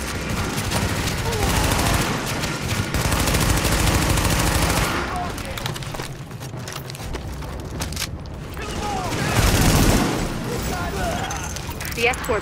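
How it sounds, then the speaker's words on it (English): Gunfire in Tom Clancy's The Division, with dense, continuous bursts of automatic fire and booms filling the scene, loud and sustained, with voices talking over the shooting. "The escort party's taking heavy fire from the roof."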